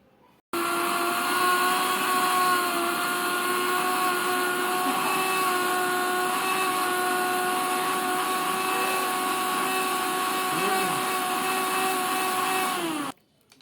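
A mixer grinder grinding oats and poha into powder for baby cereal, switching on abruptly and running as a loud, steady high-pitched whine for about twelve seconds before cutting off.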